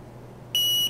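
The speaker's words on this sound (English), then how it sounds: "the LED lights up and the buzzer sounds." A short electronic buzzer tone from a homemade Lego-themed Operation game sounds once, a steady high beep lasting about a third of a second over faint background hum.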